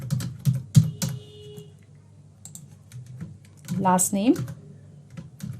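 Someone types on a computer keyboard while filling in details to register a new WordPress user, with bursts of quick key clicks beneath a person talking.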